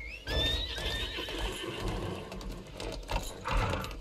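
A horse in the video game Lost Ark gives a loud whinny at the start, followed by rapid clip-clop hoofbeats that continue throughout, close and prominent, with no talking.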